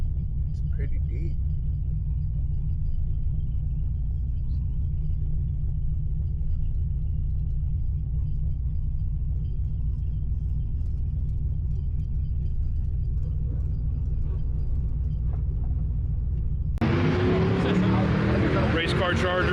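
Pro-charged 900 hp Dodge Charger Scat Pack with a high ram intake cruising at night, a deep steady low engine rumble heard from inside the car, then a louder, brighter burst near the end.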